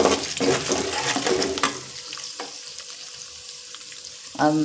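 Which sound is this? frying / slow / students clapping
frying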